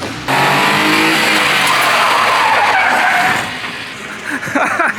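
A kei truck's tire spins in place on an open differential, giving a loud, continuous squealing skid with engine noise that holds for several seconds, then cuts off abruptly.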